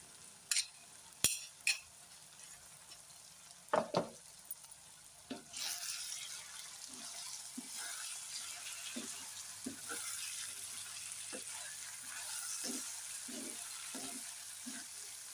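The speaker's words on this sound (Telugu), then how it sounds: "ఇప్పుడు ఇందులో మనం కట్ చేసి పెట్టుకున్న క్యాబేజీ అయితే వేసేసుకుందాం" Cabbage sizzles and fries in a pan with moong dal and onions as it is stirred, with sharp clattering spoon knocks early on, then a steady loud hiss and repeated soft scraping strokes.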